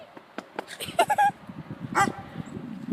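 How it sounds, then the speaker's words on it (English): Guard dogs give a few sharp barks and yips in quick bursts, fairly close, with a louder bark near the middle against a low background murmur. "Our guard dogs."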